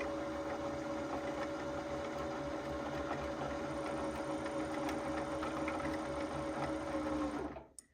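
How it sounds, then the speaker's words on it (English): A PooLin EOC02 sewing machine winds a bobbin under foot-pedal control, running as a steady, even motor whir for about seven seconds before spinning down and stopping. "When I press on my foot pedal, it's going to wind this bobbin."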